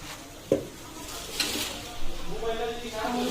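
Malabar spinach dropped into chicken curry in a pan, a sharp clatter followed by stirring, scraping and a rising sizzle, with someone speaking briefly over it.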